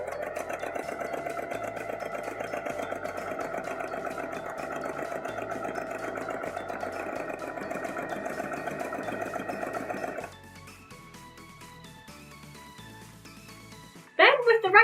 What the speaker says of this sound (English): I'm going to stabilise this neckline with a line of stay stitching